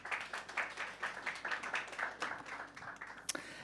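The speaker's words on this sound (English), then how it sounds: "Please welcome them on stage with applause" Audience applause welcoming the final startup pitch at a demo semifinal, a steady patter of many hands clapping at moderate distance for a few seconds, ending with a single sharper clap.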